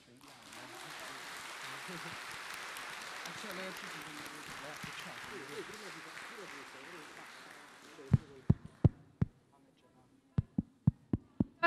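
Audience applause for student actors after a Doctor Faustus performance at a classical high school's national night event, broad and steady under a speaking voice, then thinning out into a few sharp separate claps near the end.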